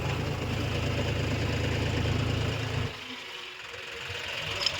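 A John Deere 5050 D 4x4 tractor engine drones loud and steady nearby with a low throbbing idle, then drops off sharply partway through, leaving quieter rumble behind.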